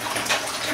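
Bubble bath poured into a bathtub as it fills with water, a steady close wash of running, splashing water with no talking.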